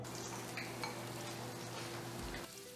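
Onion sautéing in cooking oil for a tofu and vermicelli noodle dish, a faint continuous sizzle with a few soft stirring scrapes and light utensil taps, no voices.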